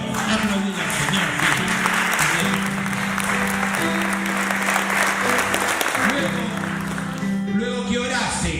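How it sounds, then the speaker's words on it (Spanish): Church congregation clapping for the Lord during a Spanish-language sermon, steady dense applause throughout, with sustained tonal voices or music running underneath. "Aplaudir al Señor."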